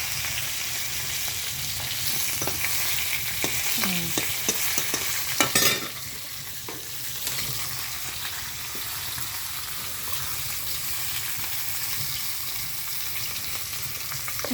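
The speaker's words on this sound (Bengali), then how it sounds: "একটু লাল লাল করে ভেজে নিচ্ছি মাছটা" Fish sizzling steadily as it fries reddish-brown in a pan of hot oil, a continuous close crackle with a few scraping stirs and clinks near the middle, then settling back into even frying.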